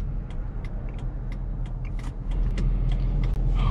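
A 2006 Chrysler 300C with a Hemi V8 drives along, its steady engine and road rumble filling the cabin, loud and continuous, with faint interior clicks and no talk.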